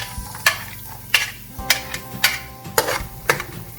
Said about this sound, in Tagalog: Kung hot na imong oil, so add the garlic. And then you add your onions.